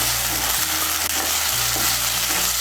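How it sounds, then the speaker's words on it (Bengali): Chickpeas, grated coconut and ginger paste fry in hot oil with a loud, dense, continuous sizzle, close up, over a low steady hum. "ছোলা আর নারকেলটাকে তেলের সঙ্গে মিশিয়ে নিয়ে একটু ভেজে নেব"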